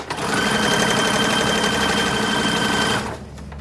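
A sewing machine stitches sleeve cuffs for a 1940s WWII staff uniform, running in one steady, loud, close burst for about three seconds before stopping abruptly.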